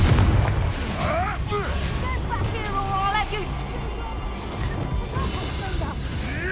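A Confringo fire spell blasts in Hogwarts Legacy, a booming explosion with crackling bursts over continuous battle noise, while voices speak over it.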